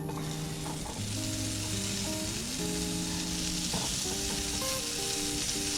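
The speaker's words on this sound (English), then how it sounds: "Get my bacon going." Bacon frying in a pan, a loud continuous sizzle and crackle close up, with music playing underneath.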